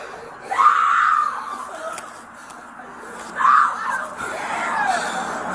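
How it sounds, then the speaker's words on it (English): A woman screaming in a played clip: two loud, high shrieks a few seconds apart, the first drawn out and the second shorter, over a murky background of muffled voices. "Now I don't know who's screaming."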